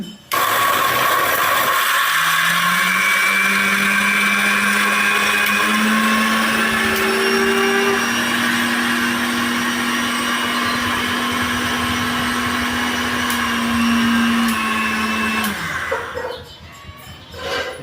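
A new-model mixie mixer grinder whirs loudly as it grinds coriander seeds, a steady motor drone that holds for about fourteen seconds, then winds down and cuts off near the end.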